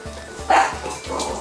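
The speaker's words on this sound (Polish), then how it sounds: "Pieski!" Small dogs bark and yip in a quick series of short, moderately loud bursts outdoors on a windy day, with one sharper yelp standing out partway through.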